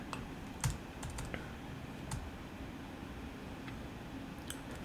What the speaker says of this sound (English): I'm just typing int and then pressing tab.